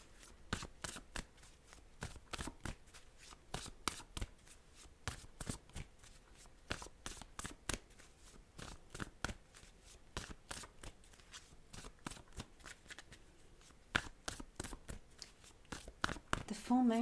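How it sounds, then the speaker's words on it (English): A John Holland Psychic Tarot Deck being shuffled, a long run of quick riffling card flicks in steady bursts, close and crisp, with soft talk now and then. "I might just turn some general cards here."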